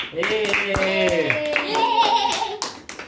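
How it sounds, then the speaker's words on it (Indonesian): A school class claps together in a short burst of quick, overlapping hand claps that fade out after about three seconds, with voices mixed in among the applause. "Berikan aplaus untuk kita semua."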